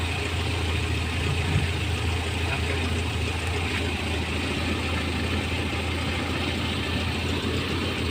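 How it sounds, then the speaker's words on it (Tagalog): A Toyota Town Ace's 5K engine idles steadily close by, a continuous rough mechanical drone with no talking. "Toyota Town Ace 5K engine guys"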